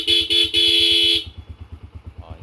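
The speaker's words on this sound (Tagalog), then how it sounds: "Busina. Ganun pa rin." A Kawasaki motorcycle horn beeps three times, two quick short toots then a longer blast, over an idling engine's steady putter that continues after.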